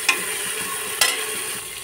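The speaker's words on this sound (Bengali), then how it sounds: "মশলাগুলো ভাজা ভাজা করে" Ground spice paste frying with chopped onion, dried chilli and bay leaves for a beef shank kosha gives a short, steady sizzle, broken by two quick spoon scrapes, with no voices.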